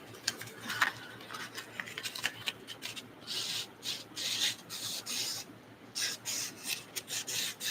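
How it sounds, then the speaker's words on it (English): A PTO bearing race is polished by hand with 1500 grit sandpaper, giving a quiet, steady scratchy rubbing of back-and-forth strokes heard up close. "So this is 1500 grit. I'm just kind of here to try to polish it"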